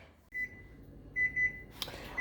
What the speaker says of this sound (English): that's my timer for it's been about 15 minutes on our lemon icebox pie